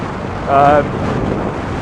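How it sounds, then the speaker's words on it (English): Strong wind buffets the microphone on a high green lane byway in Hampshire with a constant rumbling roar, and a brief tonal whistle rises through it. "really, really windy up on here."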